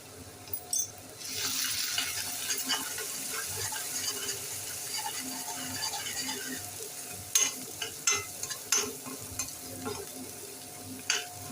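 Onion and tomato with red chili powder frying in a pan, giving a soft, continuous sizzle with a few sharp spoon scrapes and taps near the end; quiet and close, no talking.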